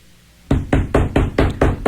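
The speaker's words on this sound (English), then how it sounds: "The unmistakable knock of Mr. Kelly." Six firm knocks on a door land in an even, quick rhythm after a brief quiet moment, each one sharp, close and loud.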